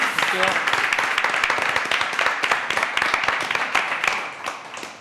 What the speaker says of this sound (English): Big round of applause, please, for Regina.